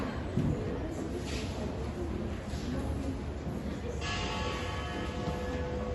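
A bell rings during a classroom sound-guessing activity, its resonant tone ringing over a steady background hiss that grows clearer toward the end.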